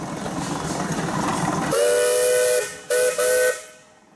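A 1920 20-horsepower Advance Rumely steam engine at a parade sounds its steam whistle: one long loud blast, then two shorter toots, over low rumbling background noise.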